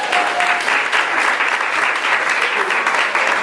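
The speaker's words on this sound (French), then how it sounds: "On les applaudit." Steady, dense applause from a studio audience at the Miss Afrique Montréal 2013 pageant fills the space, loud and even throughout with a faint voice underneath.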